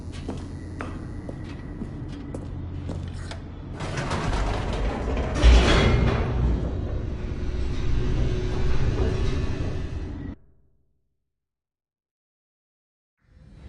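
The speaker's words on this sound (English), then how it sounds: "The elevator raced downward, plummeting towards an unknown fate." An elevator descends in The Stanley Parable: grinding mechanical hums and creaks build and hold for about ten seconds, then cut off abruptly into silence.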